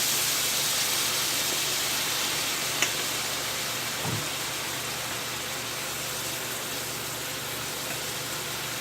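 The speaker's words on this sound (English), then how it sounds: "You'll hear that sizzle." Soy sauce sizzles steadily in a hot pan, a continuous loud hiss with a faint click partway through.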